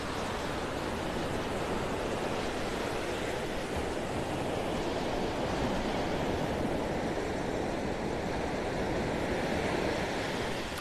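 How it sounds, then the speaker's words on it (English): Ocean waves roll onto a beach in a steady, loud wash of surf mixed with wind buffeting, continuous for several seconds with no talking. "the waves coming in"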